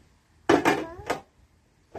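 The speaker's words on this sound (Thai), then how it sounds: "ช่วยหมาม่าล้างจานด้วย" A few clinks of dishes and cutlery knocking together in a sink, two close clatters followed by quiet, then another clink at the end.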